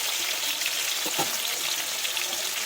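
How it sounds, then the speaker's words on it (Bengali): Potato pieces sizzle steadily in a pan of hot oil, a continuous bright frying hiss with a few soft stirring clicks, close and even throughout with no talk. "আলুগুলো একটু নাড়াচাড়া করে একটু হালকা করে একটু ভেজে নিই"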